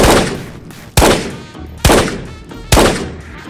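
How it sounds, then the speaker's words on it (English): Four sharp, loud gunshots fire at a steady interval of roughly one per second, each with a short decaying tail, during a match of the first-person shooter Ghosts of Tabor. "You're shooting right, DMG."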